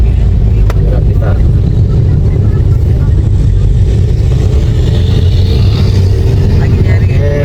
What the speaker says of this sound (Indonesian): Oke, metiknya masih responsif. Di tanjakan securam ini, Expander masih bisa melibas lah ya.